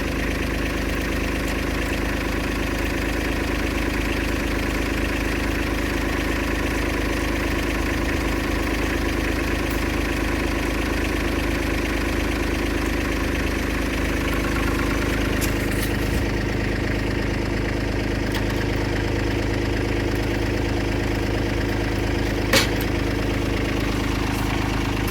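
Kubota tractor engine running continuously at a steady idle, a dense low throbbing drone with a slight shift in tone partway through, close and constant with no talk.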